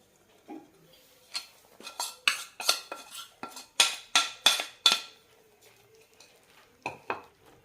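A spoon scrapes and clinks against a pan as flax seed laddu powder is mixed with raisins, a series of sharp metallic strokes in quick bursts with pauses between, close and clear, no talking.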